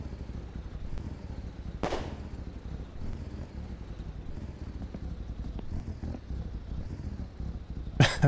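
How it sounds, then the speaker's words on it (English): The engine of the Rivett car in the video game My Winter Car idles with a low, steady rumble, broken by two sharp backfire pops, one early and one at the very end. "Oh, we got some popping going on."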